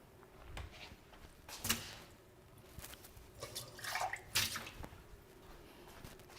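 Water runs and splashes in bursts during the rinse cycle of a slushy machine, with intermittent gushes and drips over a quiet background, fairly close and without talk.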